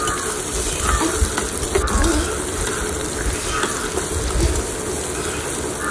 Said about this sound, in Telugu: ఉల్లిపాయ దోరగా ఫ్రై అవ్వాలండి.